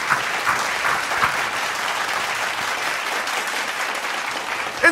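A church congregation applauding in praise during a sermon, steady crowd clapping that holds evenly throughout at moderate distance, with no speech over it.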